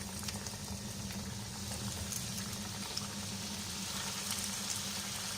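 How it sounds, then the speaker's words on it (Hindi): Double-coated chicken pieces deep-frying in hot oil, a steady, close bubbling sizzle with fine crackles that continues evenly throughout at moderate volume. "इसको हम क्रिस्पी और क्रंची होने तक फ्राई करेंगे।"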